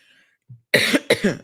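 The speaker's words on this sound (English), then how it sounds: "It's going to be a coughing kind of day." Two sharp, close coughs sound one after the other from a radio host, loud and harsh, with a faint breath just before them and a brief pause between.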